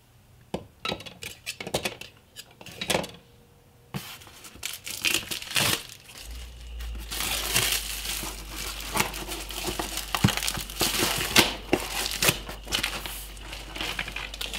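Packaging from a Kansas City Steak Company steak delivery crinkles and rustles while being unboxed, with irregular close crackling and tearing, sparse at first and then dense and continuous, plus occasional light clinks.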